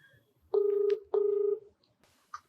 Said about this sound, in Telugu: మీరు ఓకే అంటే ఒకసారి కాల్ చేయండి.